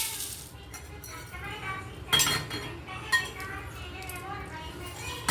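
Roasted ingredients are scooped from a pan into a bowl, with metal clinks and scraping of a spoon against cookware, a few sharper knocks standing out over a steady room background.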